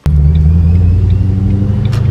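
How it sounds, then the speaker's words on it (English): A car fitted with a ProCharger supercharger starts and settles into a steady, deep idle, close by and loud, with a brief crank at the very start and no speech over it. "So let me turn on the car and let it run for a bit."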